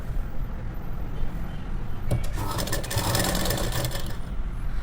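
A sewing machine stitches a blouse belt strip: a low steady hum, then a louder run of rapid mechanical stitching from midway to near the end, with no talk.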